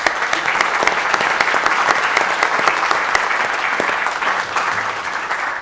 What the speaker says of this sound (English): a round of applause for all of you for attending